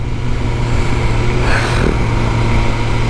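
A Ducati Panigale passes in Paris traffic, its engine swelling briefly over a loud steady rumble of road and wind noise before fading.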